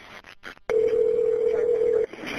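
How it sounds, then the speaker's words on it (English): A steady telephone dial tone comes on abruptly after a moment of quiet line noise, holding loud and unbroken for about a second and a half before cutting off. "You're going to hear a dial tone in the phone ring."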